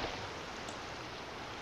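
Steady rain falls in the Minecraft video game world, a constant soft hiss of drops spread evenly across the whole moment with no talking over it.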